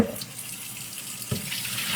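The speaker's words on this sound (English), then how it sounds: "So let me just rinse out my Vitamix container." Tap water runs steadily into a Vitamix blender container as it is rinsed, a close, continuous splashing rush.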